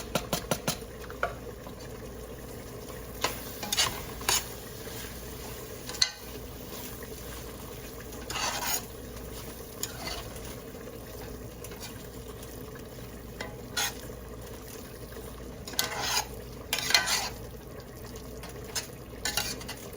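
Beef tikka karahi with fresh coriander, green chillies and ginger is stirred in a pan, a soft bubbling sizzle underneath repeated scraping bursts of the spoon against the pan at irregular intervals.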